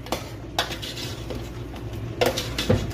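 Stirring ingredients for chicken tinola in a cooking pot, with scraping and clinking of the utensil against the pot in a few bursts over a steady low background hum.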